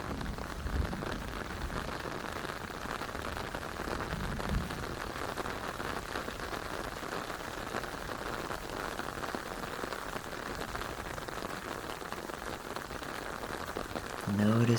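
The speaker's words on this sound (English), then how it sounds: "As we tune in to all the sounds that rain and thunder and a storm can make." Steady rain falls in a storm soundscape, a dense, even hiss of drops on surfaces that holds across the whole stretch, with a few low rumbles early on and no voices.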